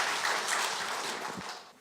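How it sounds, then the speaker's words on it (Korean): Audience applause filling a lecture hall at a civic academy talk on state power, a dense steady wash of clapping that holds for the whole stretch and tapers slightly at the end, with no voices over it. "여러분 박수로 청해 보겠습니다"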